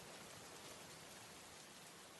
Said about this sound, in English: the rain starts to fall a little more gently and slow down